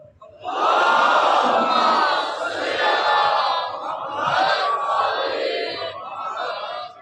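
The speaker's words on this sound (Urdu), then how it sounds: "اور بھی بلند صلوات" Many worshippers in a mosque call out salawat together loudly, a thick crowd chant that starts after a short pause and surges in several waves before easing off.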